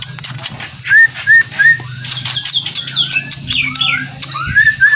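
Javan myna (jalak kebo) calling nearby in a rapid series of sharp whistles, chirps and squawky notes, with other bird calls mixed in over a steady low hum.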